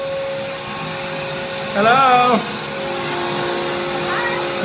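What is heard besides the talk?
vacuum cleaner running in an apartment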